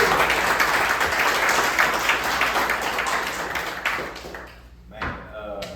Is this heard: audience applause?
yes